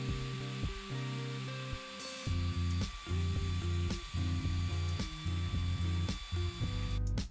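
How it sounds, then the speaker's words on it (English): Battery drill spins small metal toy-truck axles against fine grit sandpaper during a Matchbox Bedford wreck truck restoration, giving a steady close whirring drone with brief pauses and rises in pitch, alone with no talk. "I do this by placing them inside my battery drill and buffing against some fine grit sandpaper."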